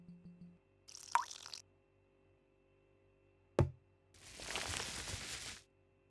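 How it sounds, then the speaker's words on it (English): Contents of a pot being poured out in Cooking Simulator, heard as a few separate faint liquid splashes and plops with a short drip between them, quiet and close with no talk. "Pour everything out."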